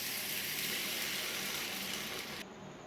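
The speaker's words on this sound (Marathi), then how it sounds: "आता यामध्ये घालायचे पाणी." Water pours steadily into a large pot holding chana dal and moong dal, a continuous close rushing splash that stops abruptly near the end.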